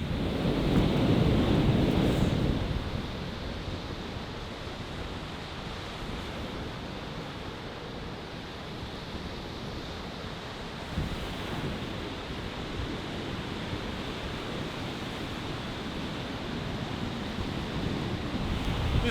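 Winter wind and waves roar steadily over Lake Michigan in a dense, continuous wash. The sound is loudest at the start, with occasional gusts buffeting the microphone.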